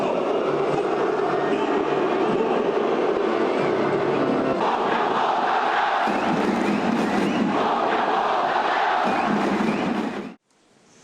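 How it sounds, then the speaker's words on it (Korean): Home football crowd in a stadium booing loudly as Ulsan manager Hong Myung-bo's name is called, a dense sustained roar of jeers that swells and shifts before cutting off abruptly near the end. "경기장에 홍명보 울산 감독의 이름이 불리자 홈팬들의 야유가 터져나옵니다."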